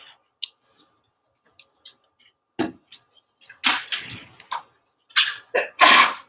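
One person sneezes sharply in a quiet room during a maths lesson, among scattered clicks and small handling noises.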